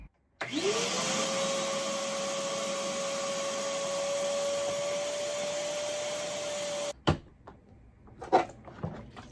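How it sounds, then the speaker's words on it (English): A shop vac runs loud and steady as it sucks up water, its motor whine rising at startup, then cuts off, followed by a few faint knocks and handling clatter. "turn the shop vac off and unplug it before emptying the drum"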